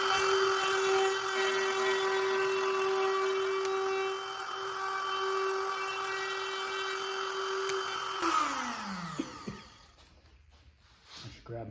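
A power tool takes a pass through wood while a wedgie sled is built, a loud sustained high-pitched whine that holds steady, then spins down and fades out near the end, followed by quiet handling noise.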